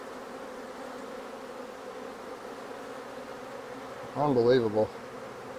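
Honeybees returned from California almond pollination fill an opened hive with a dense, steady buzz, close and even; a voice briefly speaks over it near the end.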